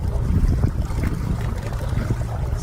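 A Haswing Osapian 55 lb-thrust 12-volt trolling motor pushes a Saturn boat and revs up, giving a low churning hum mixed with splashing water and wind buffeting. The sound is close and steady over a short stretch.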